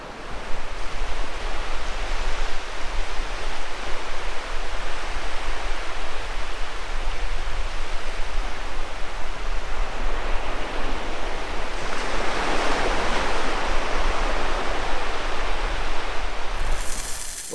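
Steady, loud wash of waves breaking on a beach at Streaky Bay on the Eyre Peninsula, a continuous roar of surf with a brief swell of louder foam midway and no voices.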